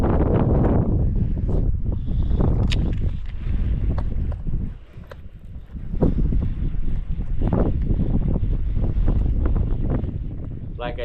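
Strong wind buffets the microphone on Lake Mohave during a fishing trip by boat, a loud continuous rumble of gusts with a brief lull midway, near and dominant throughout.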